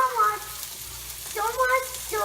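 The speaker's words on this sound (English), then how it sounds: "We've got the asparagus and zucchini in the pan, frying pan, and then pasta is boiling." Asparagus and zucchini frying in olive oil in a home frying pan give a soft, steady sizzle, with brief bursts of nearby talk over it.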